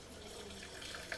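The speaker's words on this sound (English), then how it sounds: "fill it to the line with water." Tap water running steadily into a Tefal Easy Soup maker jug over vegetables, a soft continuous filling gush close by, with faint splashes near the end.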